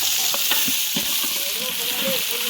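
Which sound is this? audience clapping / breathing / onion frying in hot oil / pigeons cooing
onion frying in hot oil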